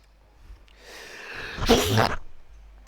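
A single sneeze, sharp and close, preceded by a brief intake of breath, in an otherwise quiet room.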